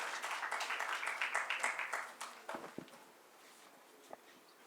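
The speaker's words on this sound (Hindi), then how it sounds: "कृपया ज़ोरदार तालियों के साथ स्वागत कीजिए राशिका भारद्वाज" An audience at a youth speech event claps to welcome a speaker, a burst of dense applause that fades within about three seconds, leaving a few scattered claps and faint shuffling noise.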